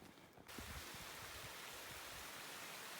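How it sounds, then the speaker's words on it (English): Small creek flowing under a road, a soft, steady hiss of running water that rises after a brief quieter moment and then stays even and faint. "random creek going over the"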